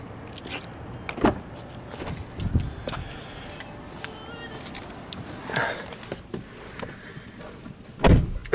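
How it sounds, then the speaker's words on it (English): Someone climbs back into a car on a cold Nashville night: a few scattered thumps and clicks of the door and handling, a jangle of keys and the whir of electric windows, closing with a louder knock near the end. "I'm going to get back in the car now because it's pretty cold in Nashville right now."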